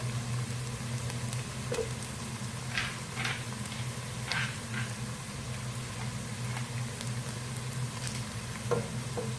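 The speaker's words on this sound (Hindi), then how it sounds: "प्याज हमारा फ्राई हो रहा है, साथ ही हम जिंजर गार्लिक पेस्ट शामिल करेंगे 2 टेबल स्पून भर के।" Onion frying with ginger garlic paste in a pan for achari aloo gobhi, a steady low sizzle with occasional soft stirring scrapes and faint ticks, close and continuous with no talking.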